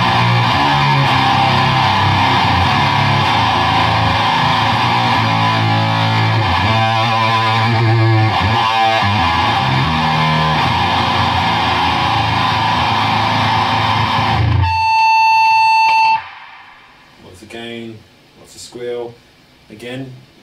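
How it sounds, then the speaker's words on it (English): Electric guitar played through a TC Electronic Eyemaster distortion pedal with the gain turned up gives a loud, saturated, sustained chord tone that cuts off abruptly, followed by a few brief quieter sounds. "It's just a really nice added sort of boost of that saturation and distortion with the extra EQ that the Eyemaster has"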